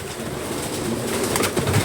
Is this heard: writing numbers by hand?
no